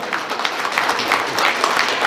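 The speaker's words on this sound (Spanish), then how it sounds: "Los aplausos." A crowd applauding steadily, dense clapping filling the whole moment at strong volume without a break.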